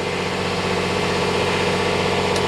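Twin Volvo diesel engines idle aboard a 2000 Pursuit 3400 Fisherman boat, giving a steady, close, even drone with a low rumble and vibration throughout, no voices over it.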